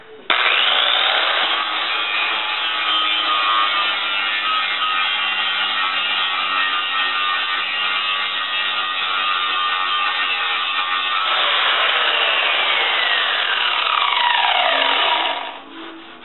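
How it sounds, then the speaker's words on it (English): A loud, continuous high-pitched grinding whine from a 4-inch sanding disc on a metal patch on a Triumph TR6, steady throughout and winding down at the end. "I got the 4-inch disc on here. I'm going to hit this high spot."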